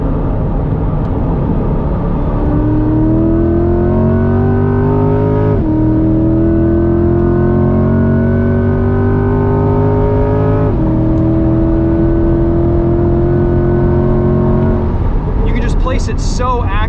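A 2021 Chevrolet C8 Corvette Z51 with track alignment on a circuit, its engine rising loudly through several hard accelerations with pitch climbing, brief drops between gear changes, and a sharp blip near the end.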